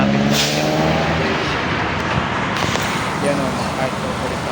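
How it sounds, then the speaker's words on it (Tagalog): Heavy road traffic around Valenzuela, with a steady roar of car engines and passing vehicles close by, a brief brake hiss near the start, and no clear talk. "sobrang traffic po ngayon."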